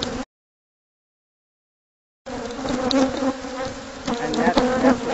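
Bees swarming around a huge, long-established hive give a dense, continuous buzzing close by, steady and loud after a brief gap of silence.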